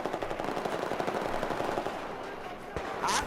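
Rapid automatic gunfire in the video game Battlefield 4, a dense run of loud close shots in steady rhythm that thins out near the end, with a player talking over it.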